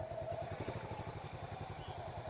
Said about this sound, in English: he's walking with the bike under a little bit more power, and as he moves the motorcycle, he's raising his RPMs